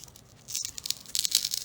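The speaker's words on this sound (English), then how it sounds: "And now we do a peel and reveal." A Chalk Couture transfer being peeled off a fall door tag, a short close crinkly tearing sound with a soft start and a louder papery rip toward the end, heard alone.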